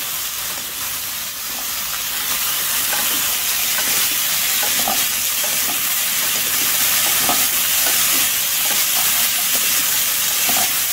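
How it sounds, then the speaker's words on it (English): Red and green capsicum sautéing over a high flame, a steady broadband sizzle and hiss with light stirring clicks throughout, close and continuous with no talking. "Saute it on a high flame."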